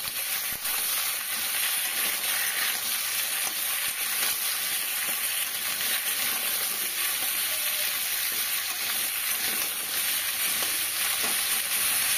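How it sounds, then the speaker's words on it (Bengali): Pumpkin and potato frying in a pan for a pumpkin-prawn dish, with a loud, continuous close sizzle and occasional stirring scrapes throughout, no voice. "কুমড়ো দিয়ে একটু ভালো করে ভেজে নেব।"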